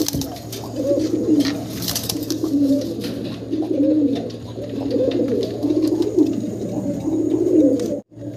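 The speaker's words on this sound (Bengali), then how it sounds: "হাড়ির ভিতরে ডাকতেছে নর" A male pigeon coos from inside a clay nesting pot, giving repeated soft, rhythmic, throaty coos at close range over a faint steady hum.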